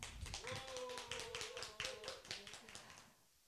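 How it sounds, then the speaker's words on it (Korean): An audience claps to welcome a speaker at a Korean public talk on childcare policy, a dense patter of hands lasting about three seconds and then fading out, with a voice sounding over the start. "박수 주세요."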